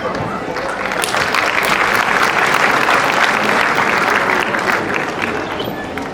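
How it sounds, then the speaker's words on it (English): Loud, dense applause from a large school audience fills the hall for performers at a Recognition Day stage production, a steady roar of clapping sustained throughout. "Let's give a resonating round of applause to our fabulous performers"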